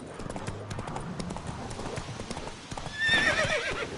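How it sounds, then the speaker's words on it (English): Horse hooves clip-clopping in the video game The Witcher 3, a steady run of hoofbeats followed by a loud neigh near the end, with a voice calling to the horse. "Whoa there, Roach"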